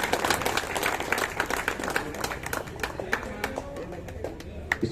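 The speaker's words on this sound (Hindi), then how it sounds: "जोरदार बजनी चाहिए तालियां।" Audience applause at a felicitation program, a burst of many hands clapping near and fairly loud at first, then thinning to scattered claps, with some chatter underneath.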